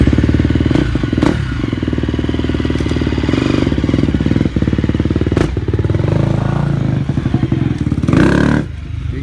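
A brand-new KTM 250 motorcycle with a dragging Rekluse clutch runs loud and close, its engine chugging and clattering unevenly with occasional thumps and revs, and no voices over it.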